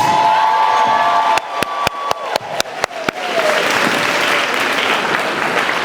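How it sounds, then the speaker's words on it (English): Graduation ceremony crowd breaking into applause and cheering for the graduates, a loud roar that follows a short run of about eight evenly spaced sharp claps. "let's give a resounding round of applause for these graduates, our graduates"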